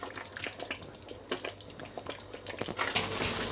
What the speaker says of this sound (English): And then just give that a stir gently.